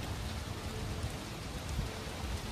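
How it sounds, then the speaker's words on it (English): Heavy rain falls outdoors in a dense, unbroken hiss that stays loud and even from start to finish, with no voices over it. "It's raining."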